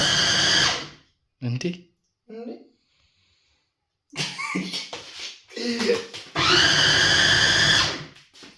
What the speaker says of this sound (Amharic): አሁን ስንፈጨው ድምፅ ሊኖረው ስለሚችል